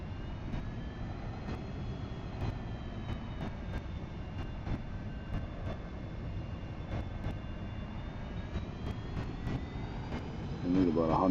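Steady synthetic jet engine thrust drones from an aircraft in the X-Plane Mobile flight simulator game, constant and moderately loud with faint clicks over it.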